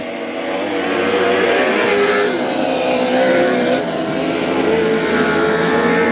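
Race cars roar around the track during the final laps of a close battle for third, engines loud and sustained with overlapping revs and passes throughout.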